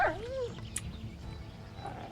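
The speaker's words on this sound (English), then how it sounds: "That's a dog. That's not a wolf." A dog in the medieval game Kingdom Come: Deliverance gives a short yelping whine that rises and falls, followed by a low steady background hum, close and fairly clear.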